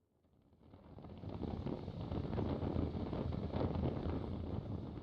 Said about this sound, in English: We can already hear the wind blowing there.